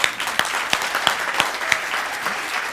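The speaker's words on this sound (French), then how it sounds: "on peut l'applaudir" Audience applause at an evening entrepreneur talk, a steady round of clapping from a modest crowd with a few sharper individual claps standing out, fairly close and without voices on top.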